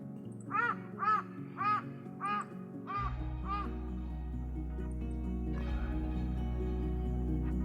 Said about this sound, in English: The only thing you can hear is those crows.